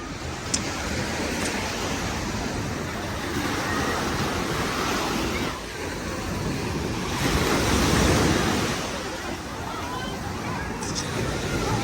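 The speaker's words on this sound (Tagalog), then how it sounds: "Ito yung simpleng dagat sa amin. Ito dagat." Steady wash of sea waves rolling ashore, a continuous broadband roar with wind buffeting the microphone, swelling slightly partway through.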